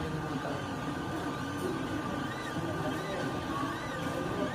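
A 3D printer hums and whirs continuously with a faint steady tone, a soft mechanical drone at moderate distance, while voices talk over it.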